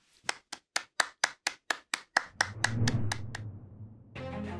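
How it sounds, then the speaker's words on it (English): Clapping for graduates at a virtual hospitality management commencement: about a dozen crisp, evenly spaced claps ring out alone, then give way to a murky, rumbling noise bed and a brief fresh burst at the end. "let's give our graduates one more big round of applause"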